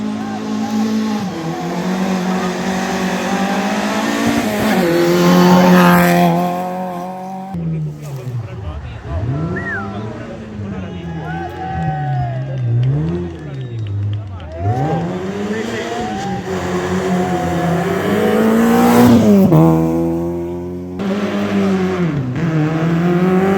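Rally car at the San Froílan 2023 rally passing at speed, a loud engine roaring and rising and falling in pitch with gear changes, with Spanish-speaking voices talking over it.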